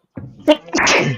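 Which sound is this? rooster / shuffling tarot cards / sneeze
sneeze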